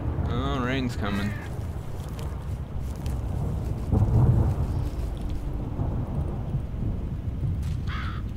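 A deep rumble of thunder rolls in around the middle of a gloomy outdoor scene in the game STALKER, over constant hiss of rain and wind, with crow-like caws near the start and end.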